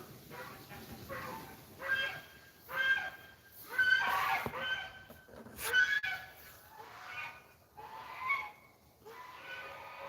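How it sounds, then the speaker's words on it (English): A flock of geese returning overhead, honking in repeated bursts that rise and fall over a quiet outdoor background, loud at times and fading between calls. "Geese are coming back."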